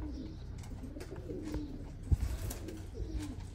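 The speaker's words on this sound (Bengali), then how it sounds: "এই হচ্ছে Oman teddy, flying teddy, flying bird" A male Oman teddy pigeon, a flying breed, gives soft, low, rolling coos, close by and fairly quiet, with a brief louder bump partway through and no talking.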